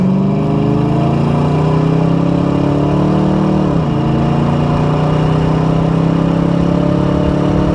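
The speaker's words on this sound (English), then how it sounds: "we got an opportunity now to really get in the throttles because we're not behind that truck. So we'll let you hear the exhaust again." Steady, loud in-car drone of a 1993 Ford Mustang LX 5.0 V8 automatic exhaust under throttle at highway speed, holding a low rumble with a brief dip in pitch midway before climbing again, with no talking.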